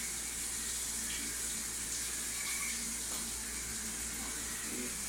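Hot water rushes from a multipoint water heater tap in a steady, strong, close hiss of running water, unbroken for a few seconds with no voices.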